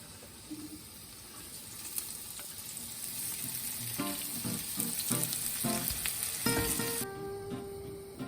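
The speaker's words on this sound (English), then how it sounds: "Add a little oil to your pan here on medium-high, and all of your vegetables." Vegetables including onions and leeks frying in oil in a pan on medium-high heat, a steady close sizzle with occasional clinks and stirring sounds, no talking.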